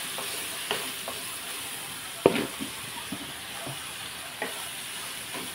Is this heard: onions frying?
yes